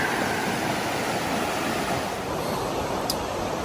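Cold stream water rushing over rocks at a trail crossing, a steady broadband wash that stays close and fairly loud throughout with no voices.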